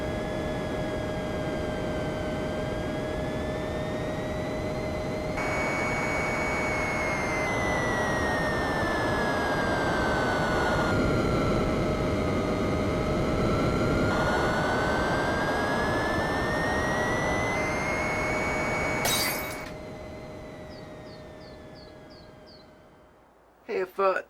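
A steady jet-like airplane engine roar from a flight video game drones loudly for about twenty seconds, its pitch slowly rising and falling, then cuts off abruptly near the end.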